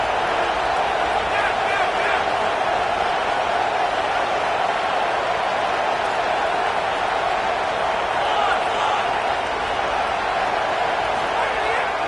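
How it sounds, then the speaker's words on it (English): A big crowd at a college football game at Clemson roars in a steady, dense wall of sound that keeps going for about twelve seconds with no break. "This crowd rising up, sensing that its defense needs some help."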